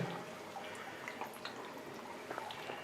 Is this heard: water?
yes